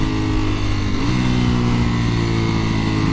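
A Ducati Panigale V4S motorcycle engine runs loud and close under load, a dense rough roar with a brief rev blip about a second in as it downshifts, then steady again.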